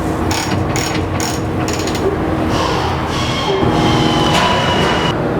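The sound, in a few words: ratchet adjusting belt puller conveyor height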